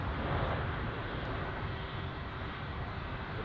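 A Lufthansa Airbus A321 taxiing at Munich Airport, its jet engines giving a loud, steady, broadband roar that holds evenly throughout with no speech over it.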